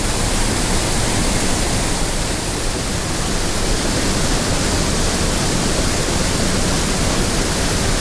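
A waterfall in a wild gorge roars as a loud, constant broadband rush of falling water, close by and unbroken throughout.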